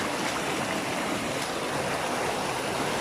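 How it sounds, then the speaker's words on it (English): Someone wades through water in a croft ditch during farm plumbing work, giving a steady, close rush of splashing and churning water throughout with no speech. "Currently wading through the water, so I'm going to be pretty careful."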